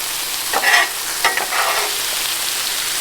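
Brussels sprouts fry on a 22-inch Blackstone griddle while camping, giving a steady close sizzle, with a few sharp bursts of stirring and scraping in the first two seconds and no voices.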